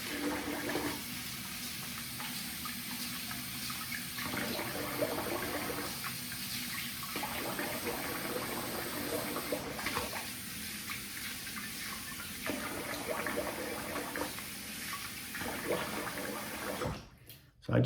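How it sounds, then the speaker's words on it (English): Water running steadily at a bathroom sink while someone rinses their face, first with warm water and then cold, the flow loud and continuous with brief splashing breaks before it cuts off near the end. "Let me rinse the face."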